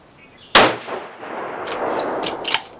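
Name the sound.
7mm RSAUM rifle gunshot, 180 grain hybrid with H1000 powder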